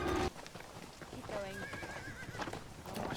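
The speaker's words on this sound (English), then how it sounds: "Oh shit, is it Horses." Horses neighing with clip-clopping hooves in a Last Kingdom battle scene, a whinny rising partway through over hoofbeats, with people talking and shouting.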